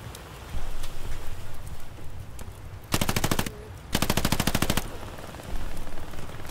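Machine gun fire in the Hell Let Loose video game during an Omaha Beach simulation event: two long, loud, rapid bursts of rattling shots stand out, with fainter distant gunfire scattered around them.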